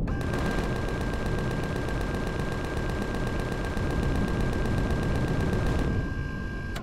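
Rapid automatic gunfire in Empyrion: Galactic Survival, an evenly spaced stream of loud shots lasting about six seconds before stopping abruptly.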